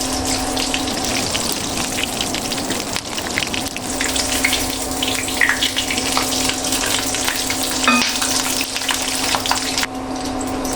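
Battered eggplant slices and soya chops fry in hot oil, giving a loud, continuous crackling sizzle with scattered sharp pops across the whole stretch and no voices.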